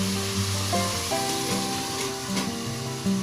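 Chicken adobo with lemongrass sizzles steadily in a covered pan, a continuous close frying hiss with faint lid or stirring knocks, no voices.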